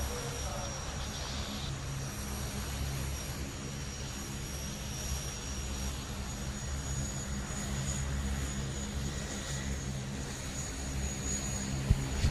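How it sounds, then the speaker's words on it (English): An Italian Air Force Panavia Tornado IDS jet at the Cosford air show produces a continuous broad engine roar that holds steady and swells slightly, with an announcer's voice over the public address beneath it. "The Panavia Tornado will strike up with an inverted flight"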